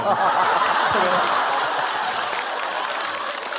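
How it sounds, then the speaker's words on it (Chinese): A stand-up comedy audience applauds in a dense, steady wash of clapping, mixed with scattered laughter, fading slightly toward the end. "让我们把掌声送给5哈的重点邓超老师"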